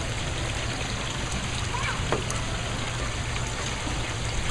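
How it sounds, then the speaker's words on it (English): Water flows in a steady, continuous stream with a constant babbling rush, moderately close, and no distinct events over its length. "Let the water flow."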